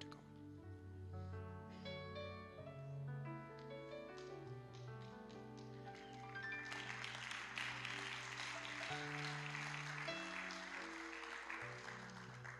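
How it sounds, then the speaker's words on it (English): A church congregation claps during a service night as the pastor comes up, a soft wash of applause rising midway over sustained worship music with keyboard chords and bass notes. "You guys don't have to clap when I come up."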